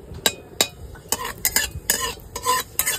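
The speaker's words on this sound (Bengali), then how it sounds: "পরিমাণ মতো একটু তেল দিয়ে দিচ্ছি, অল্প একটু জিরা ফোড়ন দিয়ে দিচ্ছি" Cumin seeds tempering in hot oil in a Bengali kitchen, crackling under irregular sharp scraping and clinks of a spoon stirring in the pan, close and fairly loud.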